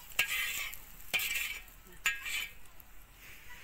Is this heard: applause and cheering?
no